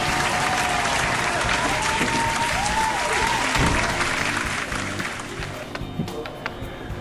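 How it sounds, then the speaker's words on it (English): Applause from a crowd, steady and full for several seconds before thinning out toward the end, welcoming a shipping manager at a recumbent trike shop. "let's give the big man a round of applause"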